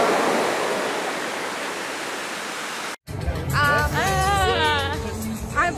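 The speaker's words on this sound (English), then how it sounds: "That was fabulous water show." Loud, steady rush of spraying water from a Las Vegas Strip fountain show fills the first half, then cuts off abruptly as people talk close by.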